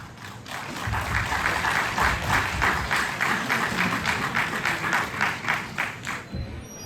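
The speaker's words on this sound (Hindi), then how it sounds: "जोरदार तालियों के साथ स्वागत करते हैं" Loud, sustained applause from a large crowd welcomes the chief guest, a retired army major general, at an NCC army gathering, with a dense, even patter of clapping throughout that eases slightly near the end.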